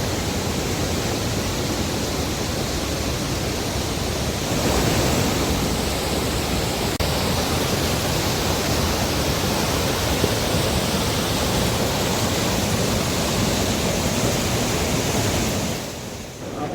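Floodwater surges into hotels in Uttarakhand after heavy overnight rain and cloudbursts, a steady, loud, broadband roar of rushing water that continues without letup, easing slightly near the end.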